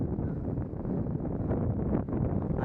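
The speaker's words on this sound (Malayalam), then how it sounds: "നല്ല തണുത്ത കാറ്റ് വീശുന്നുണ്ട്" Cool wind blowing steadily at Munakkakadav beach in Chavakkad, a continuous broadband rush and buffeting across the microphone with no break, boats out on the water nearby.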